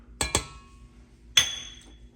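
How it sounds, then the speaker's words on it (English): A spatula drops into a glass jar with two quick clinks, then a third brighter clink rings out about a second later, close and clear in a quiet kitchen during lemon cheesecake mousse prep. "I'm going to use my jar as my holder for my spatula"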